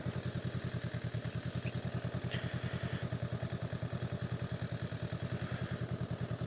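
A 2025 Honda Rebel 500 ABS motorcycle runs at a low, steady speed, its engine pulsing in an even rapid thump, close and continuous with light clatter on top.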